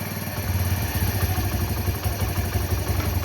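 An old-model Bajaj Discover motorcycle engine idles nearby with a steady, rapid low thumping and rattling chatter, continuous and loud, no voices.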